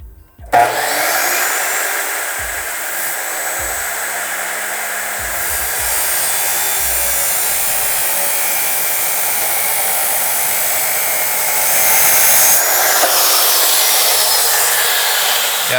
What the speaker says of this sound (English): Scary using the chop saw on something this finished